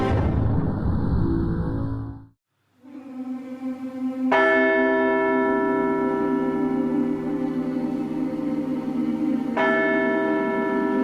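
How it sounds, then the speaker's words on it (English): Church bells of St. Peter's Basilica in Rome tolling, with a loud ringing strike that lingers and hums, followed by a second strike near the end, after a brief lull and softer opening tones. "The ancient bells of St. Peter's toll across Rome"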